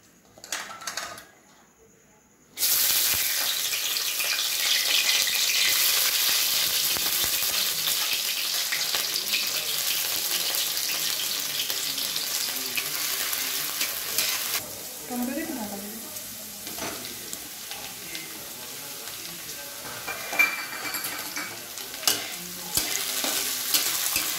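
Green beans fry in a hot pan for chaumein with capsicum, a steady broadband sizzle that starts abruptly after a short quiet lead-in and carries on loud and even, with faint stirring clinks and a brief soft voice partway through.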